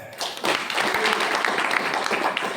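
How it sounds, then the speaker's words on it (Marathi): Audience applause at a devotional kirtan discourse, a dense continuous clatter of many hands clapping nearby, loud and steady for a couple of seconds. "जोरदार टाळ्या."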